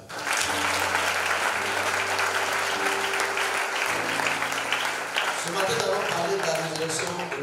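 A church congregation applauds in a loud, sustained burst of clapping that fills the room, with a low sung or hummed tone running underneath.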